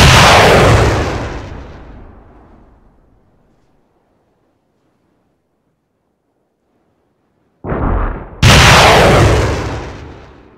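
Explosions in Donetsk, a loud close blast opening the clip and decaying into a long rumbling tail, then silence, then two more sharp heavy booms near the end, the last one very loud and ringing out.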